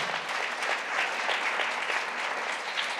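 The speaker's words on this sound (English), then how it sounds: "So can I get a round of applause?" Steady applause from an audience at a society business meeting honoring longtime attendees, an even, moderately loud patter of many hands clapping with no break throughout.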